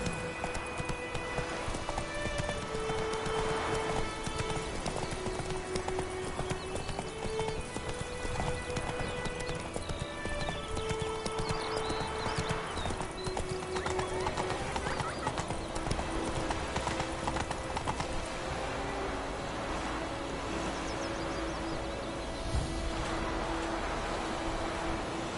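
Roach the horse clip-clops steadily through White Orchard in a video game, hooves trotting at a constant rhythm under game music and ambience, with an occasional whinny.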